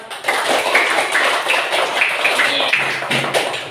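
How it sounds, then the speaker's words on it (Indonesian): A classroom of fourth-grade pupils claps together in steady, dense applause that sustains at an even level for several seconds. "Tepuk tangan untuk semuanya."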